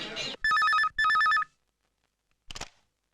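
Telephone bell in a Tamil film scene rings in two loud, evenly spaced bursts, then falls silent before a short clatter like the receiver being picked up.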